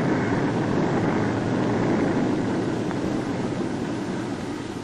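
Steady, broad engine roar of military aircraft flying in 1967 Vietnam, continuous and fairly loud throughout, slowly fading slightly toward the end.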